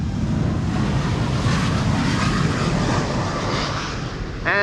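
A United Airlines jet takes off from Amsterdam's Polderbaan runway 36L, a loud, steady rushing jet roar that holds for several seconds and eases slightly at the end, with no talk over it.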